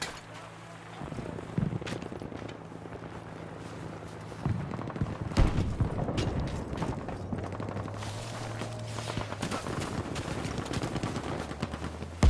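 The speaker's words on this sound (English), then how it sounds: "Over there, some heavy guns!" Heavy gunfire in a Battlefield video game: rapid machine-gun bursts and repeated shots crackle continuously, some loud and close, with thuds and movement mixed in and occasional voices.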